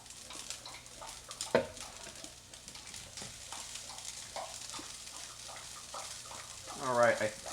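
Fried rice sizzling and being stirred in a pan, a steady frying hiss with scraping stir strokes, and a short rising pitched squeak near the end.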